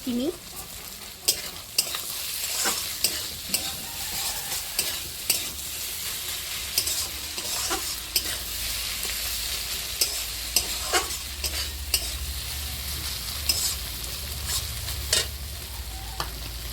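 A pan of fish oil sizzles steadily while a utensil knocks and scrapes against the pan at irregular intervals, close and fairly quiet, with no talking.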